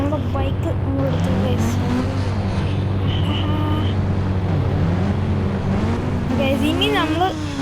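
Motorbike engine in the video game Indian Bike Driving 3D, a steady droning hum with rising and falling revving tones throughout.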